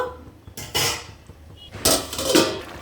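A metal lid set onto a pot of potol and prawn curry on the stove, giving two short clanks and scrapes of metal against metal with a quiet pause between them.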